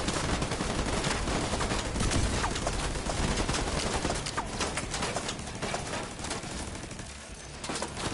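A video game turret fires in rapid, sustained bursts, a dense, loud, close rattle of gunfire that keeps going with only brief dips.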